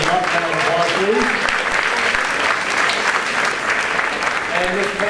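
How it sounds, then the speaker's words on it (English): Audience applause at a varsity sports awards ceremony, steady and loud clapping from a large crowd sustained through the whole stretch, with faint voices underneath. "Round of applause, please."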